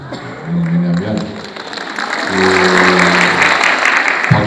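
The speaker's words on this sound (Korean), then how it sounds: "박수의 의도가 뭔가요?" Audience applause at a talk-show-style admissions strategy concert, a moderate wash of clapping that swells and holds steady while voices talk over it throughout.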